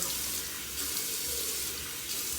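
Hot water running from a bathroom tap, used to warm the face before shaving, a steady soft hiss of flowing water with no break and no voices.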